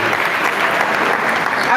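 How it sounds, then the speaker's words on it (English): A group claps in sustained, dense applause at an agricultural service capacity training event, loud and close, with a voice heard over the clapping. "A round of applause for her again."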